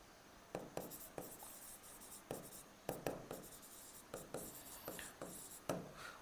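A pen writes on paper while solving linear equations in two variables by the elimination method, with soft, close scratchy strokes arriving in short repeated bursts and brief pauses between them.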